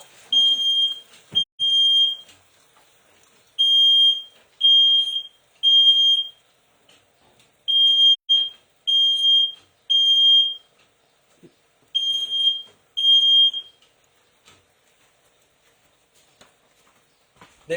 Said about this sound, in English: we just set the smoke alarm off